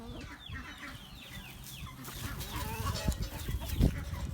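A farm rooster clucks in a run of quick, fairly faint chirping notes, with some low scuffling and a thump near the end, and no talk.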